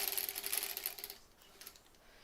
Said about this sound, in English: I'm going to sew up to there.